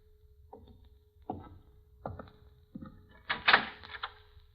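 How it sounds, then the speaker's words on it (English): Sound effects in an old-time radio mystery drama: a door being opened, with a series of soft knocks or thumps building to a louder creak and rattle at the end, close by under a steady low hum. "Open the door, Vince."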